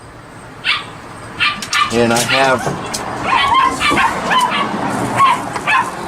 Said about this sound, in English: so you can hear the dogs.